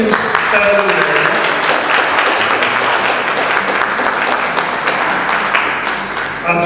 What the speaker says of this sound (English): can you give Jacqueline a round of applause for their brilliant ceremony?